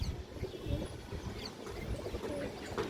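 Old-line Dobash pigeons coo softly, with low, faint calls repeating at close range under a quiet background.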